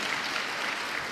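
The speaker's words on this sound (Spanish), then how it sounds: "dele un aplauso al Señor" A church congregation applauds, a brief, steady wash of many hands clapping at once at moderate distance, with no voices standing out.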